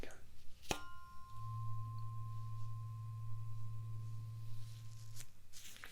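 A tuning fork struck on the left side: a sharp tap followed by a steady pure ringing tone that holds for several seconds before a second tap, faint and close, with no talk.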